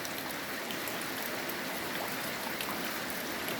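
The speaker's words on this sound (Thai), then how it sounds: "ก็วันนี้ก็ ฝนตกอีก" Steady rain falls on a roof over a snail enclosure, a dense, even hiss with scattered drops pattering throughout, close and continuous with no voices.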